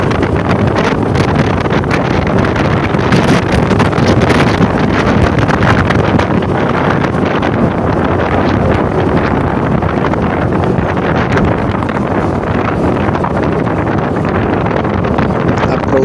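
Strong coastal wind at a beach resort in Ternate, Cavite roars steadily against the microphone, a constant loud buffeting rush that fills the whole stretch without pause.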